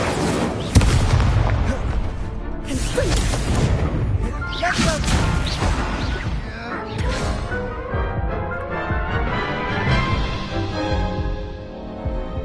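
Repeated Confringo explosive spell blasts in Hogwarts Legacy combat, a dense run of booms, crashes and crackling bursts following one another over several seconds. Voices call out spells in between.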